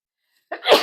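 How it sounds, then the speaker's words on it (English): A single sharp human sneeze bursts out after a moment of silence, close and fairly loud. "I think I'm gonna sneeze."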